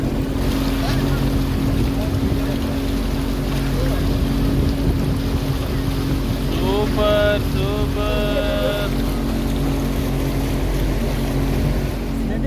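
A motorboat ride on a park lake: the engine drones steadily with water rushing against the hull throughout, while excited voices call out over it.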